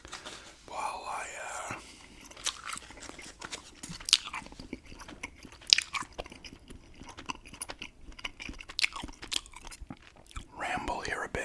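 Gum chewing close to the microphone during a quiet whispered ramble: soft, wet, sticky clicks and smacks repeat irregularly throughout, mixed in with whispering.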